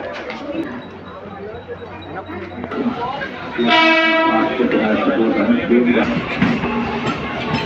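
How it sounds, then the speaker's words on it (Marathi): A Virar–Churchgate local train at a station platform sounds a loud, sustained horn partway through, over crowd bustle and rumbling; people talk throughout. "विरारवणी चर्ची ट्रेन लागली"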